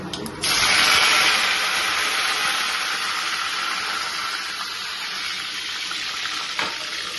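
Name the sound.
water added to hot oil tempering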